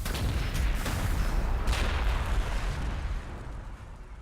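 Artillery fire in the Warhammer 40,000: Gladius video game: heavy rumbling booms and blasts roll together into a continuous loud barrage that eases off slightly near the end.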